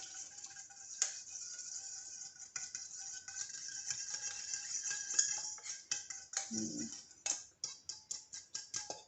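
A spoon works coleslaw through a thick mayonnaise dressing in a bowl, soft sticky squelches and faint clicks, ending in a run of regular quick taps, quiet and close with no talking.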